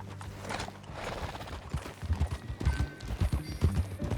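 Horse hooves clip-clop at a steady walking rhythm in Red Dead Redemption 2, close and fairly soft beneath a wash of outdoor ambience.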